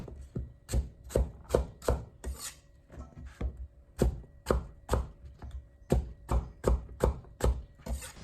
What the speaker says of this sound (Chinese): 再切成小丁。